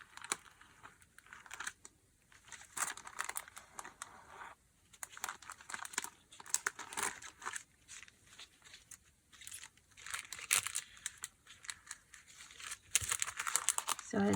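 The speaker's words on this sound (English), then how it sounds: "So I do this, slowly peel it off." Transfer paper is slowly peeled off fabric with a close, faint crackling and crinkling, an uneven stream of tiny ticks and tears that runs steadily throughout.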